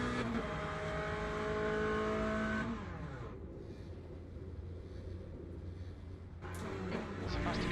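V12 engine of an LMGT3 race car lapping Le Mans, a loud steady high-revving drone that drops in pitch as the car lifts, then climbs again near the end, with no talk over it.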